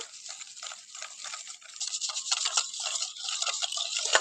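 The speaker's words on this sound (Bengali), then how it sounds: "এই ঘিয়ের ভেতরে দিয়ে দেবো এক এক কাপ সেই একই কাপের এক কাপ চিনির গুঁড়ো ভালো করে মিশিয়ে নেব" Ghee being mixed with powdered sugar in a bowl for biscuit dough, a close, steady brushing and scraping stir with quick repeated strokes that grows slightly louder midway.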